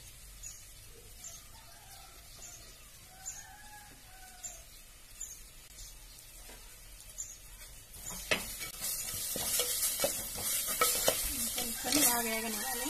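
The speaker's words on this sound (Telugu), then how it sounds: "కొంచెం బాగా వేగనివ్వాలి." Ground spices sizzling in hot oil while being stirred for a village-style semiya egg biryani, quiet at first with birds chirping outside, then a louder crackling fry with steady scraping of the pan.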